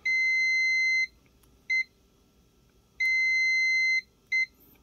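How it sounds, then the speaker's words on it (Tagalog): A UNI-T UT204+ clamp meter testing a shorted diode gives loud, steady electronic buzzer beeps: two long tones of about a second, each followed by a short blip, with no talk. "may buzzer siya guys"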